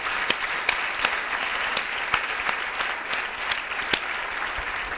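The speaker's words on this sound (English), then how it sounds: "So I am asking you to give one more applause to the 5 people you met at CDC." A seated audience applauds steadily at a CDC presentation on the Million Hearts Initiative, a dense wash of clapping with a few sharper nearby claps standing out, continuous for several seconds with no one speaking.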